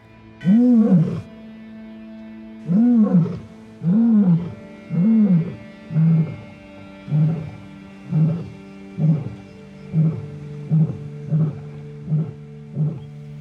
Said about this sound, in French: le 3e frère, lui, un balafré appelé Scarface, rugissait seul au début de chaque nuit